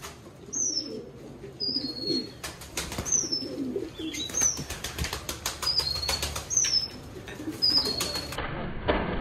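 Pigeons gathering close by with repeated bursts of wing flapping and fluttering, mixed with short high chirps and soft coos in the background.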